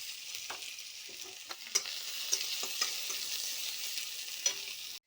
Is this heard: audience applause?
no